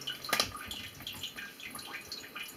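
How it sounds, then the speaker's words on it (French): Thin trickle of water running into a toilet bowl from a leaking flush valve seal, a soft, uneven splashing with small drips and bubbly spurts, close and fairly quiet with no talking. "Vous avez un petit filet d'eau ici qui coule."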